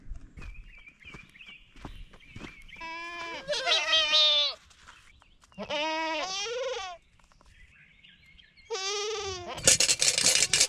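Several loud Kiko goat bleats in bursts, close by, in early morning, with a person briefly calling out and faint footsteps between the cries.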